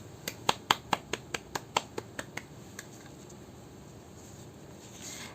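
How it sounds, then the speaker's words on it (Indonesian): A classroom of children claps hands in a quick run of about a dozen crisp, evenly spaced claps that slow and fade, followed by quiet room tone. "Boleh kita kasih tepuk tangan untuk Ica?"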